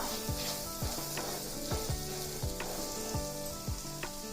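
Steady sizzling from a pan of frying butter chicken base as salt and chili powder are stirred in, with repeated scraping strokes of the spoon against the pan in a loose rhythm, close and continuous.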